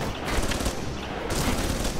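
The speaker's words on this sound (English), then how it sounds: "I kind of tried to use the turret here" Sustained turret gunfire in the video game Alpha Protocol, a dense, continuous rattle of rapid shots that stays loud and steady for the whole two seconds with no pauses.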